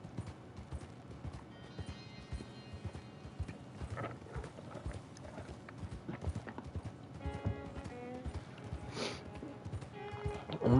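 Horse hooves clip-clop steadily in Red Dead Redemption 2, a horse laden with pelts on its back, with an occasional whinny, over a continuous game backdrop of ambient sound.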